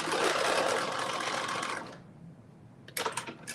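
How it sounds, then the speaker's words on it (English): A sewing machine runs a back stitch in one fast, steady burst of rapid needle clatter for about two seconds, then stops, followed by a few faint clicks. "I'm about to do a back stitch"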